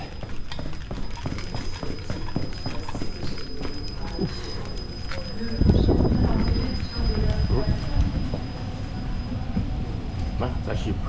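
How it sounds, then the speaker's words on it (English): A light rail train on the Finch West LRT rumbles steadily nearby with rhythmic clattering of wheels on track and a faint high whine above. "Well, it's actually a pretty decent sized train."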